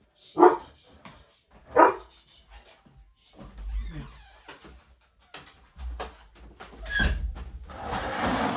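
Two loud dog barks sound close by at the start of the clip, followed by quieter household knocks and shuffling, while a delivery is arriving at the house.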